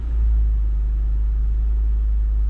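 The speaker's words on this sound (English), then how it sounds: "generator just cycled down. I guess it got cold enough in here" A generator installed on a 1999 Ford F350 hotshot truck runs close by with a loud, constant low-pitched engine rumble and hum that holds steady throughout.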